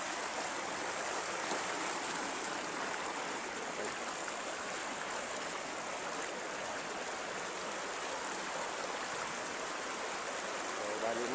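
A river flowing past riverside resorts: a steady, dense rushing wash of water that holds an even level throughout, with no breaks or distinct splashes.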